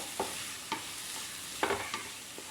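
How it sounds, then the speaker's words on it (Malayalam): Chopped tomatoes frying in a pan for a soya chunks masala fry. A spoon gives several distinct scraping strokes over a soft, continuous sizzle, with no voices. "തക്കാളി നന്നായി വഴന്നു വരുന്നത് വരെ ഇളക്കിക്കൊണ്ടിരിക്കണം."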